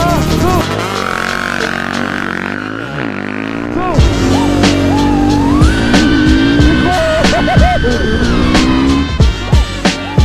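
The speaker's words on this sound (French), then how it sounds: "j'étais plein gaz, la moto elle s'est levée" A motorcycle races a drone at full throttle, its engine screaming loud and close with sharp rising and falling pitch sweeps as it revs hard through the gears.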